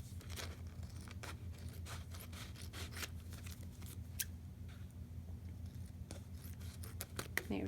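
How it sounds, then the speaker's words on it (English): Scissors snipping excess paper while trimming a handmade autumn bookmark at a kids' craft table, a series of short close crisp cuts over a steady low background hum. "You're going to take your scissors and cut off a little bit of the excess."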